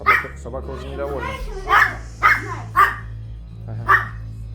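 A dog at home barks four short, sharp times at regular intervals after some whimpering yips, close to the microphone, with people talking nearby.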